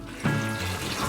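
Water pours steadily into a stock pot over shrimp shells and other ingredients, a close, continuous splashing trickle.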